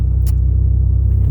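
Steady low exhaust rumble from a 2004-2008 Pontiac Grand Prix fitted with a new Dynomax exhaust, heard from inside the car while driving, a constant close drone with no talk.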